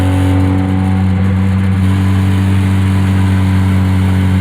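A 2001 Hyundai Tiburon coupe with a weak battery runs steadily while driving, a loud, close, continuous engine drone with a strong low hum and no one speaking.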